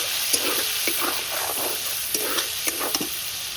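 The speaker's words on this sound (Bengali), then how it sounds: "এই তেলের মধ্যে চিংড়ি মাছগুলো দিয়ে দেবো" Prawns frying in hot oil with a little salt, a steady close sizzle punctuated by light clicks and scrapes of stirring, no voices.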